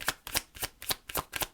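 A Disney card deck being shuffled, with about seven crisp riffling bursts in a steady rhythm, close and fairly quiet, no voices.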